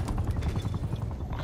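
Helicopter in a video game, a fast rhythmic rotor thumping with rattling mechanical texture, steady and fairly close for a short burst.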